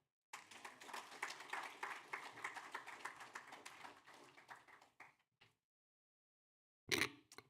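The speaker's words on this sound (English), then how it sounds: "Please welcome him with a round of applause." An audience at an Imam Hussain (AS) Day event claps in steady applause for about five seconds, fading out, followed by one more short burst of clapping near the end.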